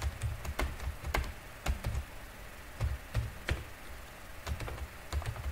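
Keys clacking on a computer keyboard while an HTML web page is written in a terminal editor, irregular bursts of close, crisp taps with short pauses between, no voices.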